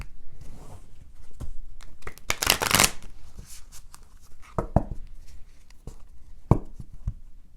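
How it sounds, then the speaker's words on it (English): Tarot cards being shuffled by hand, a steady papery riffle with a louder burst of rapid flutters midway, then soft taps and slides as cards are squared and handled. "So let's pull cards and see what we have."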